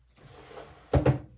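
Indoor door being shut, a soft sliding rustle followed by a quick double thud as it closes, near and moderately loud against a quiet room.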